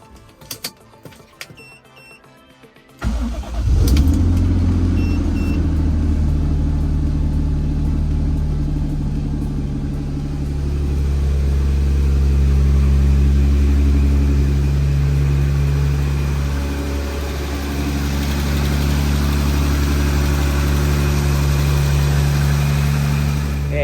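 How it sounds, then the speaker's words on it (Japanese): After a few seconds of faint clatter, a Toyota Supra engine cranks and catches, then settles into a loud, steady idle rumble with slight rises in revs. "エンジンかけましょう"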